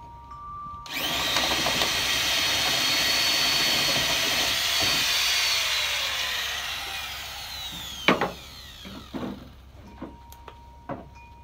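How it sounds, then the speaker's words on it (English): A hole is drilled into wood while building a shave horse: a steady, loud drilling whine runs for about six seconds, then several sharp knocks and clacks follow close by. "Now I just got to finish this hole."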